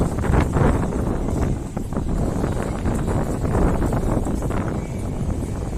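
Strong wind buffets the microphone outdoors in Benidorm, a continuous low rumbling roar with gusty swells and no voices.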